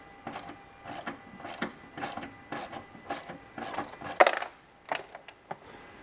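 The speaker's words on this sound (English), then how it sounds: "Now with the top portion of the intake out of our way, we can take out those 3 12mm bolts." A ratchet clicks in short repeated bursts as three 12mm bolts come out of the airbox on a Toyota Tacoma, close and crisp with brief pauses between strokes.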